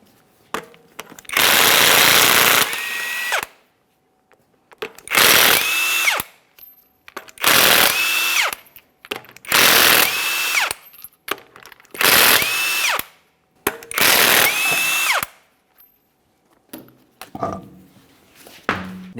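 Impact tool removing six 22mm lug nuts from a wheel of a 2017-2024 GMC Acadia, sounding as six loud bursts of hammering and whirring, each a second or two long, separated by short pauses.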